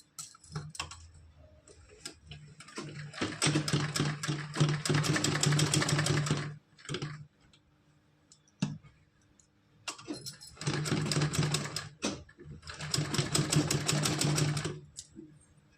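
A sewing machine stitching a small heart-patterned doll dress, running in rapid mechanical bursts of several seconds separated by quiet pauses and a few isolated clicks, close and clear with no speech.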